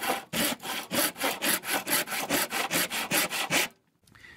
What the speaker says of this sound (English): So really all I have to do is cut down an eighth of an inch or maybe even less.